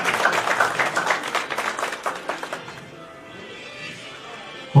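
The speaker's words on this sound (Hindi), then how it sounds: "जोरदार तालियां होनी चाहिए।" Loud applause from a crowd at a Karni Sena workers' convention in Jharkhand, a dense burst of clapping that tapers off after a few seconds into quiet room tone.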